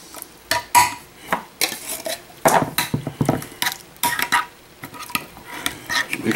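Thick cherry pineapple dump cake batter being stirred and scraped in a metal pan, with repeated close clinks of the utensil against the pan in an uneven rhythm.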